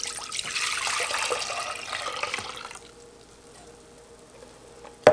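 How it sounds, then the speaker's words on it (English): Peach juice pours into a saucepan of calcium water as part of peach canning prep, a steady close liquid splash lasting about three seconds, then quiet with a brief clink at the end. "I'm gonna pour my peach juice in."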